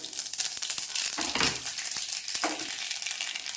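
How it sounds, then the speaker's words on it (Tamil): Hot sesame oil crackles and sputters steadily as mustard seeds pop and spit in a kadai, with a few louder bursts and a metallic scrape nearby. "கடுகு பொரிஞ்சாச்சு."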